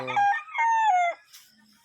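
A fighting rooster crows once, loud and close, with a long drawn-out call, followed by quiet.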